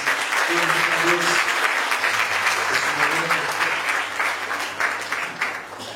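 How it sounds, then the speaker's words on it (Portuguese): A church congregation breaks into loud, sustained applause, the dense clapping filling the room for several seconds before easing off slightly, with a hum of voices beneath it. "Vamos dar salva de palmas a Jesus."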